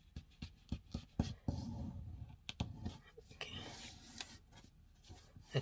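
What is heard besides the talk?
paper being pressed down and folded for a paper airplane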